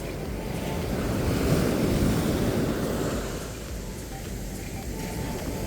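Sea waves wash steadily onto a shore, a broad roaring surge that swells and eases, mixed with gusty wind noise on the microphone.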